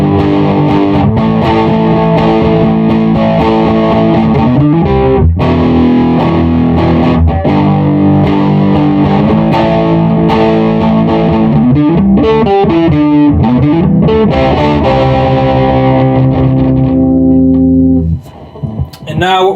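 A Carvin MTS3200 electric guitar with heavy overdrive played at full guitar volume, loud distorted chords and bends ringing continuously, then a short quieter moment at the end.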